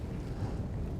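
Wind gusting across a fishing lake, a steady low rumble buffeting the microphone throughout, loud and continuous with no other sounds.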